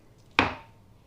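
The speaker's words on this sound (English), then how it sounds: "so just cut it into slices like that" A knife slices once through a beefsteak fungus, a single sharp close chop that fades quickly into quiet.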